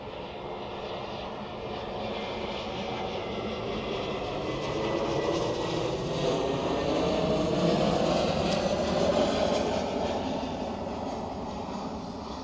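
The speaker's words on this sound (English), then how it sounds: "Next landing, A321neo from Alicante." An Airbus A321neo arriving from Alicante lands at an airport, its engines producing a steady, moderately distant whine and rumble that slowly builds and then eases, with no talking.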